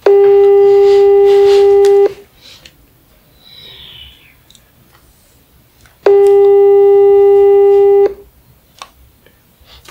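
Phone call tone sounding in two long, loud, steady bursts about four seconds apart, with quiet clicks and faint background noise in the gaps.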